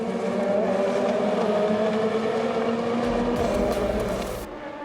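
A Le Mans race car on track sends out a loud, sustained engine drone that swells as it passes near the Indianapolis curve, then fades at the end.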